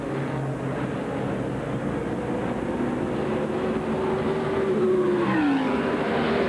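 ARCA SuperCar stock race cars roar around the DuQuoin State Fairgrounds dirt track in 1994, a continuous loud engine drone with one car's pitch rising and then dropping as it sweeps past near the end.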